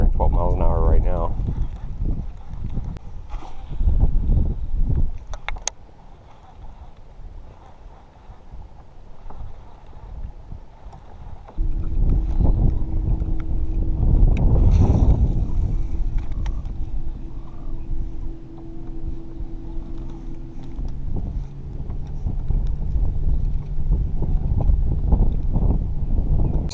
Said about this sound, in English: Wind is probably 10 or 12 miles an hour right now.